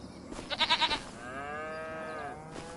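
Goats bleat in a short burst of repeated cries, followed by a longer wavering bleat over a faint background hum, in Farming Simulator 25.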